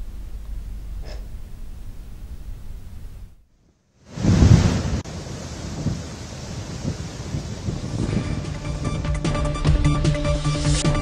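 Rough sea surf and gusty cyclone winds at Uppada beach roar close to the microphone in heavy buffeting bursts, broken by a brief near-silent gap before the wind and waves surge back loud.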